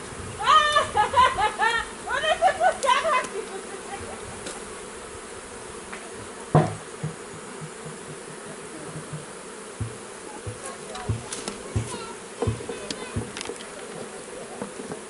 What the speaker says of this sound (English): Cleaning all the bees out.